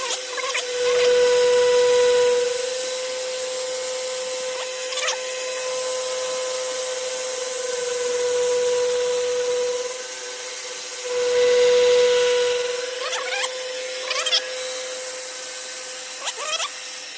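A slightly dull milling machine cutter machining a plug, a steady metallic whine under a grinding rub that swells and fades in passes as the cutter moves around the workpiece, close and fairly loud.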